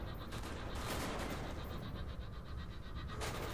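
Sustained automatic gunfire from Call of Duty: Black Ops, dense rapid bursts filling the whole stretch, loud and close with no talking.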